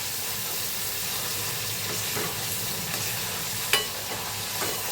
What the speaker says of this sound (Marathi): हिरवं वाटण ना मस्त असं तेलात आपण शिजवून घेऊ